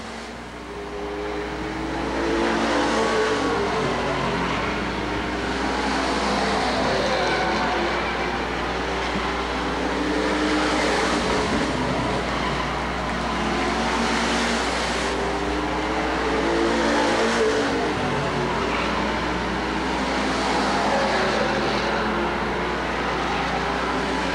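Street stock race cars in a main event race at Lakeport Speedway, with engines roaring in a continuous loud drone that swells and fades as cars pass at a distance.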